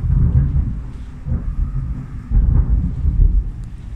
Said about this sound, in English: Just making a video now and there's a thunderstorm going on.